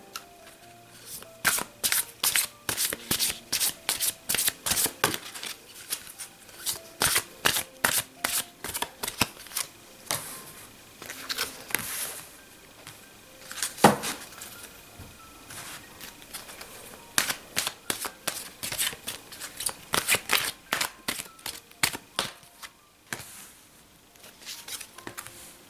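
Cards are shuffled again and again for a hexagram card reading, in close, crisp riffling bursts with a steady rhythm and brief pauses between them, with no talking.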